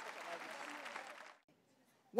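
Audience applause rises as a soft, dense patter of many hands, kept faint and even for about a second and a half before cutting off into near silence.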